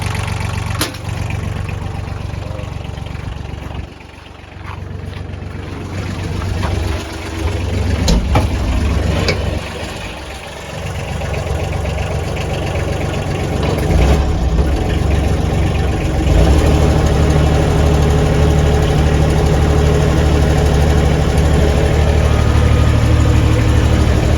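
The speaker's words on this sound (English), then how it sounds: "Motor, got a belt drive down there, and I have extra belts for it." A belt-driven motor runs steadily, a mid-to-low engine hum with a high whine above it. It dips briefly early on, then grows slightly louder toward the end, with no talking.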